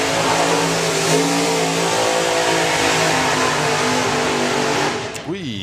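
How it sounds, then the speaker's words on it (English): A hot rod drag car does a burnout at a drag racing event, its engine held at a loud, sustained roar that drops away near the end, with commentary faintly underneath. "the next pair now coming forward to do the burnouts"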